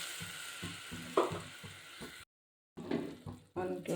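Ingredients for rasam frying in a pan, a steady close sizzle with stirring scrapes, broken by a short silent gap before the sizzle resumes.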